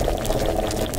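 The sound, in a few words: liquid boiling in an alchemy dish, Kingdom Come: Deliverance video game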